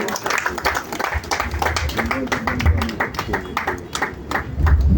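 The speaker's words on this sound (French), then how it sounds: "Mais l'applaudissement n'est pas nourri." Festival crowd gives sparse, uneven applause, scattered clapping with voices talking over it, fairly close.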